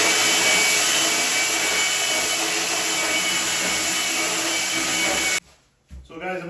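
A palm sander runs on a wooden coffee table, giving a loud, steady, high whirring drone up close that cuts off abruptly near the end, followed by a few quieter knocks.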